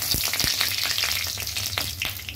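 A bay leaf fries in hot oil in a kadai, giving a close, dense sizzle sprinkled with small crackles and pops.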